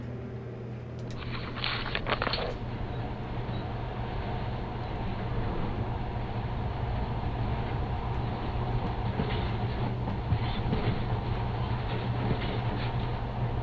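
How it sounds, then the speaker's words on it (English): A monorail in the video game Metro Last Light Redux runs with a continuous rumbling roll and a low steady hum, with a few rattling clacks near the start, loud and close throughout with no talk. "But now, this monorail seems magic, doesn't it?"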